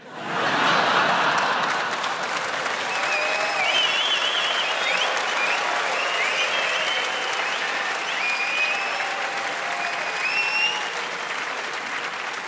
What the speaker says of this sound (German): Dass da irgendwie bloß die Hälfte klatscht